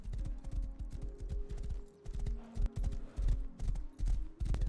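Horse galloping in the survival game Rust, with rapid rhythmic hoof clops in repeated bursts and a faint mechanical rattle, close and continuous with no talking.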